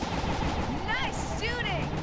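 Video game gunfire in a battle scene, rapid bursts of shots crackling under a busy mix of effects and voices talking throughout.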